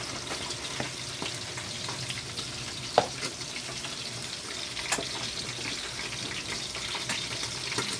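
Steady sizzling and crackling of vegetables frying in a pan, a continuous hiss with occasional pops and a soft clink, no voices.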